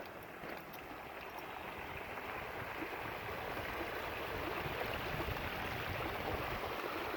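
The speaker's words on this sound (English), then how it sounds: "Check out these little funnels of water, look." Steady rushing water flows and gurgles continuously through small funnels, close and fairly loud, with no voices over it.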